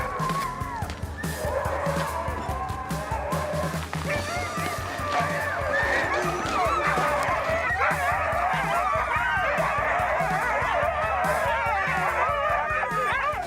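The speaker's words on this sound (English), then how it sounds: "That one seal fed 19 dogs." Nineteen sled dogs in Greenland feed on a freshly killed seal, with a continuous chorus of overlapping barks, yips and whines close by over dense crunching and tearing, plus occasional snarls throughout.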